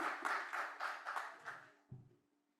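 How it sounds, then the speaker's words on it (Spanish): An audience at a hypertension forum claps for a doctor introduced as speaker, a short faint burst of applause lasting about two seconds that quickly thins out to a few last claps. "Un aplauso para la doctora"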